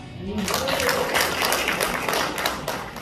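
Audience applause in a lecture hall during a political talk at a welfare forum launch in Gumi, South Korea; a steady wash of many hands clapping at moderate volume for about three seconds, with some voices mixed in.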